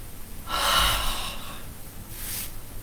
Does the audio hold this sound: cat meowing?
no